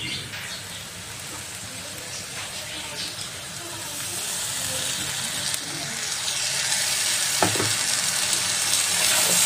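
Garlic and ginger paste sizzles as it fries with onions in a kadai while kadai chicken is cooked, a steady close crackle that grows slightly louder toward the end.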